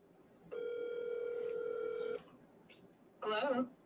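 A phone being dialed to call back sounds a steady tone for over a second and a half, then a short blip, then a brief burst of tones, close and clear.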